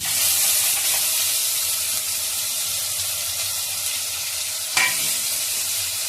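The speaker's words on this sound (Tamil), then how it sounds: "இஞ்சி பூண்டு பேஸ்ட் போட்டுக்கலாம்" Ginger garlic paste frying in a pan for spicy chicken gravy, a steady close sizzle and hiss throughout with one brief clink partway through, no talking.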